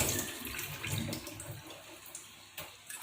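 Hilsa fish are rinsed under running tap water, a moderate splashing flow with a few sharper splashes and knocks.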